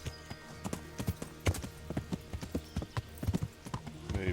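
Horse hooves clip-clop steadily in the medieval video game Kingdom Come: Deliverance during the battle for Talmberg, a close, rhythmic run of dull thuds with an occasional faint whinny, no talk.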